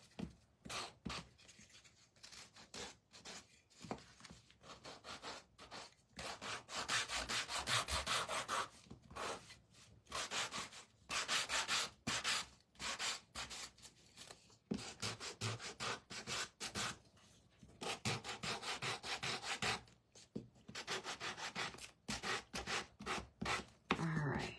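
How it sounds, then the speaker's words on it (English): A small gator sander rubs over a wooden craft piece in repeated bursts of raspy scraping with short pauses, close and steady throughout with no talk. "we're gonna sand. Get this all kind of distressed. My little gator sander."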